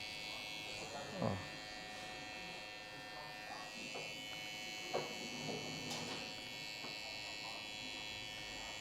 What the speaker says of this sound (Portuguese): A gente vai polir esse degradê com o cantinho da máquina do pente meio baixo